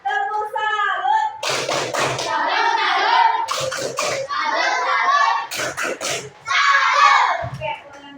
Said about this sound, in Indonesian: Oke, kalau benar tepuk salut dulu. 1, 2, 3. Tepuk salut.